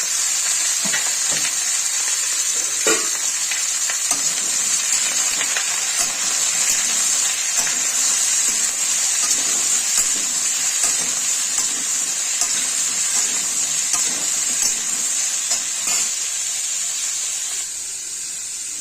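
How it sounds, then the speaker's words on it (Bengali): Chopped vegetables, cauliflower among them, frying in a pan for khichuri, a continuous close sizzle and hiss with occasional stirring scrapes, no talk. "এদিকে সবজিগুলো ভাজতে দিয়েছি"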